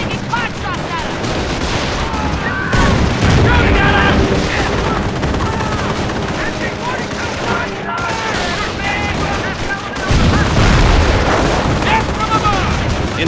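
Battle in the World War II strategy game Company of Heroes during the Carentan counterattack, with sustained rifle and machine-gun fire, distant booms and heavier surges, while voiced unit callouts sound over the fighting.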